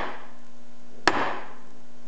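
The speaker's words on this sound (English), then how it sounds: "so that's the ball peen hammer" A single sharp ball peen hammer blow strikes a Spec Miata transmission synchro spring, one close metallic impact with a short ringing tail over a faint steady hum.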